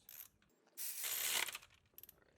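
A ratchet tightens a spark plug in a Hyundai engine bay. A close, dense run of clicks lasts about a second, followed by a few faint, scattered ticks.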